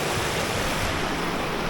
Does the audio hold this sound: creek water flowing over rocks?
yes